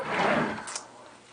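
A kitchen drawer is pulled open, a brief soft sliding rumble followed by a light click, quiet and close in a home kitchen.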